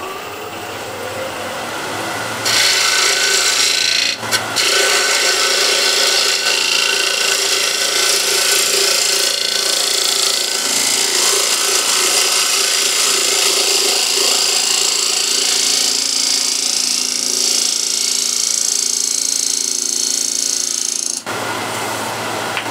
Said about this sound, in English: let's do a nice little cut using the spindle gouge to try to improve it